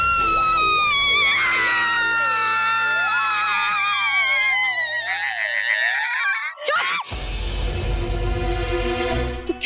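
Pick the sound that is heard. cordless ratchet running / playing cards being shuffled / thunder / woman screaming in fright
woman screaming in fright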